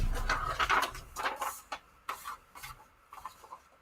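Vintage straight-stitch sewing machine running through paper in short irregular bursts of rapid mechanical clatter and needle thumps, with brief pauses between runs, fairly close and fairly quiet.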